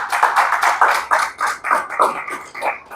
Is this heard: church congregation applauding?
yes